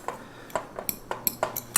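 Spoon scraping and tapping against a mixing bowl as a cup of Isopure protein powder is stirred into chocolate chip keto muffin batter, a series of sharp clinks about every half second, close and fairly quiet.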